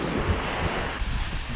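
Ocean waves roll in at a river mouth on the Goa coast, where the river's outflow pushes against the sea: a steady, close, broadband wash of surf with wind buffeting the microphone and no voices.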